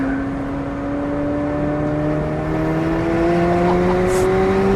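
A McLaren 765LT engine pulls hard under acceleration, a loud, continuous drone heard close and steadily climbing in pitch for several seconds.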